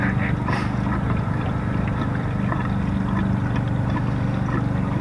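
A gas engine running on straight diesel fuel added to its oil, chugging with a steady, loud low rumble and a bubbly, gurgling texture throughout, no voices over it.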